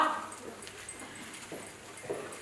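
A dog whimpers and yips in short, thin whines, one at the start and a couple of fainter ones later, heard fairly close against a quiet background.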